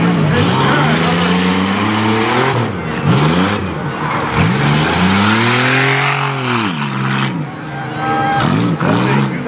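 A 2003 Chevrolet Impala competing in a small-car demolition derby revs loudly, its engine pitch repeatedly rising and falling while an announcer talks over it.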